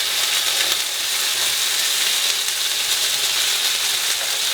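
Tuna steak searing in a very hot pan alongside mushrooms, a loud continuous close sizzle with faint crackles throughout, no voices.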